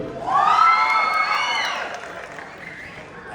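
A crowd at a Telangana formation day celebration cheers and whoops loudly. Excited voices rise together in a brief swell that fades over a few seconds.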